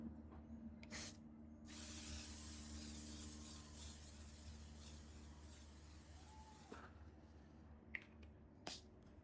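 A quiet, steady hiss of makeup setting spray runs for several seconds after a short burst, with a few faint clicks and taps near the end.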